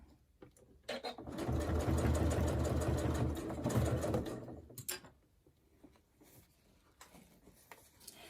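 A sewing machine stitches leather for a crossbody bag in a burst of steady, rapid mechanical whirring lasting a few seconds. Quieter clicks and handling noises come before and after it, and no one speaks.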